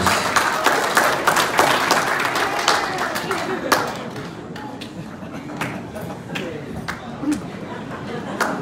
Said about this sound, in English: Let's please everyone give a large round of applause.